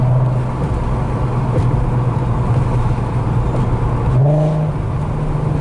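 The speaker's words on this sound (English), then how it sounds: "the downshifts in sport mode used to be really brutal and jerky" A Volkswagen R32 with the 3.2-litre VR6 engine running in sport mode, a steady close engine drone with a brief rise in pitch near the end as it downshifts, no talking.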